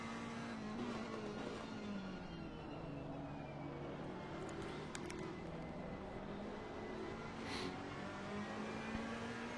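A BMW race car's engine drones and shifts pitch as it works through slow corners, heard at a steady moderate distance as a continuous humming roar.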